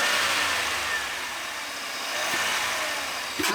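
A supercharged Cadillac Escalade V8 with its air filter removed roars loudly and close, holding a high rev with a broad intake rush and supercharger whine, dipping slightly mid-way before rising again.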